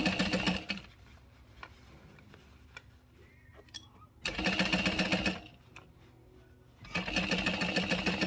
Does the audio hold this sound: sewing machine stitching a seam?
yes